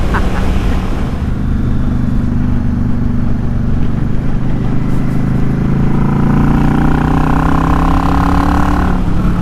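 Yamaha XVS650 Drag Star motorcycle with rejetted Mikuni 22.5 pilot jets, its V-twin engine rumbling steadily and loudly up close, then rising in pitch as it revs and accelerates.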